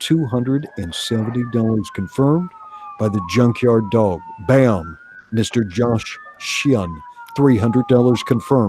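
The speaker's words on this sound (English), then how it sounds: "I apologize for the sirens." A siren wails steadily in the background, rising and falling slowly, underneath an auctioneer talking rapidly and loudly throughout, calling bids at a live auction.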